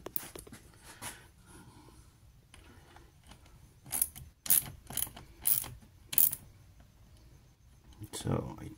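A ratchet tightens bolts while fitting a wireless kill switch to an older car, giving several short, sharp bursts of clicking close by, with quieter mechanical handling and background noise between them.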